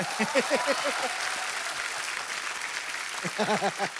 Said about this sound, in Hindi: तो बड़ा जोरदार तालियां।